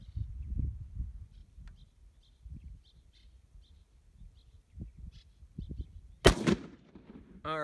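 A rifle fires Italian surplus 8mm ammunition dated 1953: one sharp, loud, close shot rings out near the end, after quiet handling and mechanical clicks.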